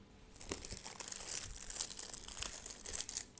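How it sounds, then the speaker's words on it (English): Plastic film being peeled off a diamond painting, a continuous close crinkling and crackling with brief tearing snaps, loud and fairly steady throughout. "I'm sorry for the crinkling."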